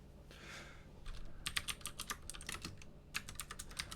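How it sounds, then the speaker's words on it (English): Clicky computer keyboard typing close up, a brief soft hiss early on, then rapid bursts of sharp clacking keystrokes in uneven runs with a short pause, no voices. "How loud are these clicky clacks? I guess pretty loud. I don't really have a quieter keyboard"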